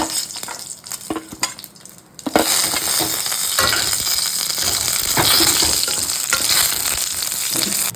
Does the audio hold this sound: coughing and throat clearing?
no